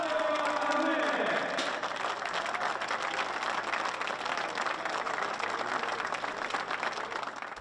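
A crowd applauds truck racing winner Steffi Halm at the Red Bull Ring round of the FIA European Truck Racing Championship, with steady dense clapping from a large gathering after a brief swell of louder noise at the start.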